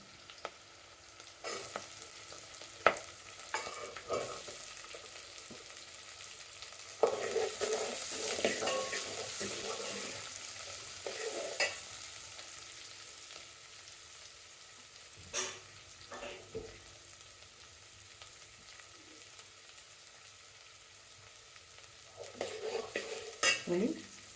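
Sliced onions and green chillies frying in hot oil in a pan for carrot chitranna, a steady close sizzle with stirring scrapes and utensil clinks coming and going, no voices.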